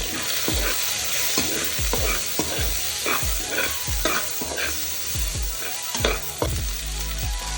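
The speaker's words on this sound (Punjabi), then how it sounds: "ਇਹਦੇ ਵਿੱਚ ਪਾਵਾਂਗੇ ਪਿਆਜ਼ ਇਹਨੂੰ ਮਿਕਸ ਕਰਾਂਗੇ" Onion is stirred and fried with garlic in a pan, a loud close sizzle with repeated scraping strokes of a spoon against the pan in a steady rhythm and no talking.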